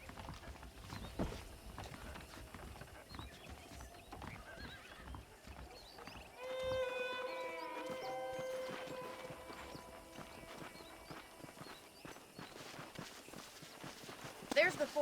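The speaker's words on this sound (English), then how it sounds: "The horses are saddled up over here." Horse hooves clip-clopping in the video game Red Dead Redemption, soft and steady under character dialogue, with a clear horse whinny breaking through midway.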